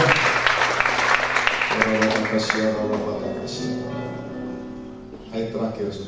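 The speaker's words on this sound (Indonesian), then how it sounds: "Tepuk tangan dulu meriah bagi Tuhan." A church congregation breaks into brief applause that fades quickly, with a voice speaking over and after the clapping.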